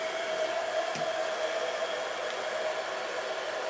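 A handheld hair dryer blows steadily and close, a continuous even whoosh with a faint whine running the whole time, while someone styles curly hair into a side braid.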